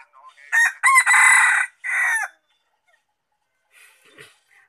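A rooster crows once, loud and near, in a drawn-out cock-a-doodle-doo, followed by quiet and a few faint clucks.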